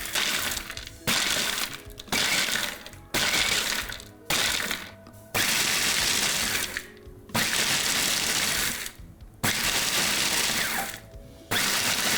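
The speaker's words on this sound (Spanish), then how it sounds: "No lo vamos a hacer con lapsos prolongados de procesado, sino que vamos a ir haciendo de a pequeños golpes" A food processor pulses pistachios toward a paste in short, loud bursts of whirring and rattling, about ten pulses separated by brief silent gaps.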